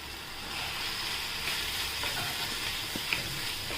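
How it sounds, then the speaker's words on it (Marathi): Garlicky methi (fenugreek) greens fry in a pan while being stirred, with a steady close sizzle and hiss broken by a few soft scraping knocks. "आता आपण हलवून घेऊया."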